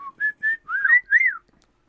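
Someone whistles a short tune alone in a quiet room, several clear pitched notes and sliding chirps in quick succession, close and moderately loud, with no talking.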